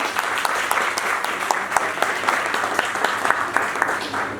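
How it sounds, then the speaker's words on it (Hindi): An audience claps loudly for their fathers at a poetry gathering in Moradabad, a dense, steady patter of many hands with sharper individual claps popping out, filling the whole stretch without talk. "आप लोग सब अपने अपने फादर्स के लिए एक ज़ोरदार तालियां बजाएं"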